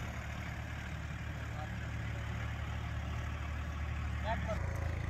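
A CRDI 5620 4WD tractor engine runs steadily at idle with a constant low drone throughout, near and fairly loud, with a brief faint knock near the end.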